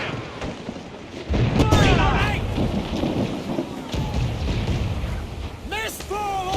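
Ship cannons firing in Assassin's Creed Black Flag, a heavy booming blast followed by rumbling, with shouting voices and stormy weather noise around it.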